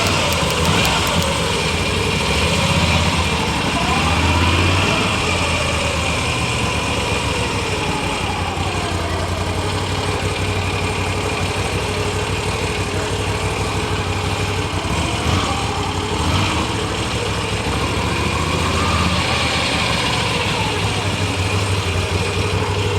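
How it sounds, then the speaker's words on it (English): The engine of a Moto Guzzi V7 Stone motorcycle idles close by in a steady, throbbing low rumble that continues evenly throughout. "So it was just to feel the engine and to feel that vibration"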